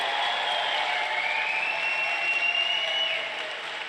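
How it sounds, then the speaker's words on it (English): Political rally crowd clapping in a steady, dense wash of applause that holds for several seconds before easing slightly at the end, with no talk over it. "The crowd is clapping."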